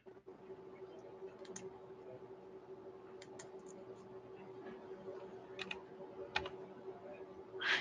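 Soft computer-keyboard typing at a desk, a few scattered clusters of key clicks over a steady low hum, faint and close, with no talking.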